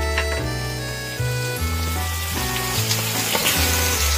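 Garlic dropped into a hot pan beside a seared one-kilogram tomahawk steak sizzles steadily and closely, a continuous frying hiss under sustained background music, with no talking.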